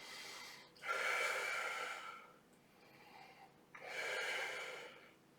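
A deep inhalation during a Pilates exercise, two long, airy in-breaths a few seconds apart, close and fairly soft, with no talking.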